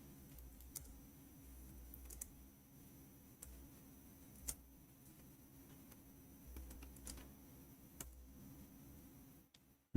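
Scattered keystrokes on a computer keyboard, faint clicks and taps at irregular intervals in a quiet room with low background hum.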